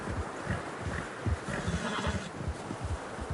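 Horses struggle through deep fresh snow in the video game Red Dead Redemption II, with a whinny and snorting over heavy, uneven hoof thuds, close and steady, with a wind-like hiss behind.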